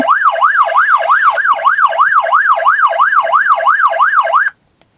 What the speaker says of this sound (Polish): a kiedy weźmiemy alarm błyskowy, to wyje i błyska